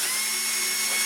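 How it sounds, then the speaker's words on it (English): A cordless drill spins steadily for just over a second with a bolt chucked in it, held against a screwdriver to knock paint off. The whine is close and continuous, with no talking. "I just use my cordless drill, and I'll use a screwdriver. I just chuck the bolt up in the drill,"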